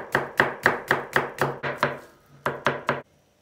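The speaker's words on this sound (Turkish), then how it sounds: "ıspanaklarımızı soğuk suyun içinde beklerken hemen soğanını doğruyoruz" A knife chopping onion on a cutting board for spinach börek, about a dozen crisp, evenly paced cuts in quick succession with a short pause before a final few, close and clear with no voices.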